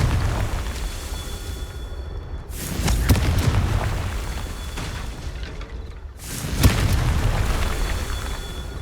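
Two heavy booming Confringo spell blasts in the Hogwarts Legacy video game, each a sharp loud burst with a rumbling tail and a few seconds between them.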